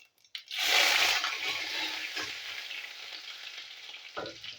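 Cumin, bay leaf and green chili hit hot white oil in a pan and burst into a loud, sharp sizzle that settles into a steady crackle, closing with a brief utensil clink.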